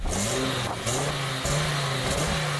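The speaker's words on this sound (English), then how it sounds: "Let's have a listen to the Sport Quattro." An Audi Sport Quattro engine revs in steady surges, rising and settling a few times with a throaty, continuous roar close by.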